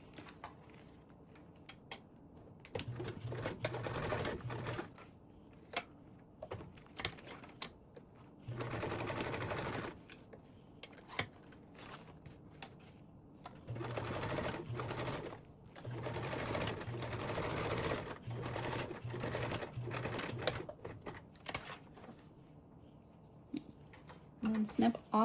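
A sewing machine stitches across a duffle bag seam at a quarter-inch allowance in several steady runs with short pauses between, fairly close and clear, with a speaking voice heard in places between the runs.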